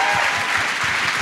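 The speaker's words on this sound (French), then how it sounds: "Gardez vos applaudissements" Steady audience applause from a live television comedy show crowd, dense and continuous clapping filling the whole moment at close range with no gaps.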